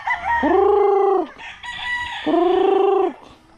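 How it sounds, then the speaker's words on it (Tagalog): Native farm chickens call close by, with two loud drawn-out calls about a second apart separated by brief quiet. "yun inahin malalaki na dito, ito yung mga native natin"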